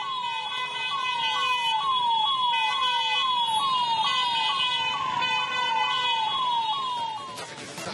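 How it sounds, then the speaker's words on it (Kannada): An ambulance siren wails in repeated rising-and-falling sweeps, loud and steady, while the vehicle sits stuck in a traffic jam near the CBT bus station in Dharwad, with faint traffic noise underneath. "ಆಂಬ್ಯುಲೆನ್ಸ್ ಒಂದು ಟ್ರಾಫಿಕ್ ನಲ್ಲಿ ಸಿಲುಕಾಕೊಂಡು ಅಲ್ಲಿ ಪರದಾಟ ಪಟ್ಟಂತ ಘಟನೆಯೂ ಕೂಡ ನಡೆದಿದೆ"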